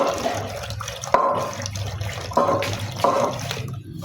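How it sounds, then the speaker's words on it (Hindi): Water runs from a tap into a glass in a steady close splashing stream, with a few sharp clinks and surges and no talk over it. "ये गिलास से पानी भरा"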